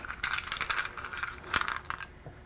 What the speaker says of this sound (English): I'm going to put 3 ice cubes in there.